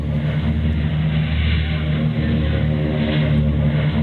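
Failing aircraft engines in a 1938 War of the Worlds radio drama recreation, a continuous loud droning hum with a steady tonal buzz and slight wavering, heard alone without speech.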